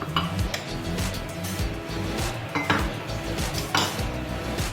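A spatula mixes sugar into vanilla cupcake batter in a bowl, giving repeated scraping strokes and light clinks against the bowl in an uneven rhythm, with no one speaking.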